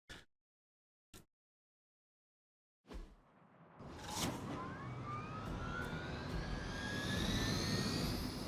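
In the video game Marvel's Midnight Suns, a Hydra helicopter starts up after a few short clicks and then roars on, a loud rising engine whine and rush that builds and sustains to the end.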